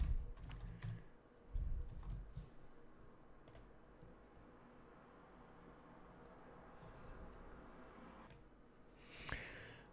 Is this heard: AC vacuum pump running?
no